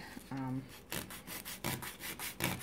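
Titanium scissors rasp and scrape through wood for a miniature dollhouse in several short, rough strokes, with a brief voiced sound near the start.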